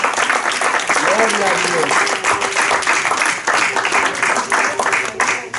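A church congregation claps together in sustained, dense applause while people shout praise over it.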